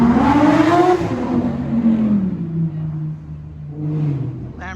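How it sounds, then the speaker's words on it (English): A Lamborghini drives past on a street in Las Olas, its engine roaring loudly up close, then falling in pitch and fading as it moves away, with a brief rise of another vehicle near the end. "Lamborghini dude had to drive by twice to show us how cool he was."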